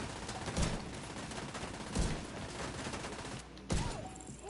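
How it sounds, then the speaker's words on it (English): A fast-firing SMG in The Division 2's Realism Mode, rattling in dense automatic bursts from fairly far off, with a few heavier thuds standing out from the steady crackle and no voices over it. "That SMG had me flinching. I guess that's what happens when you're shooting 1200 RPM with unlimited ammo."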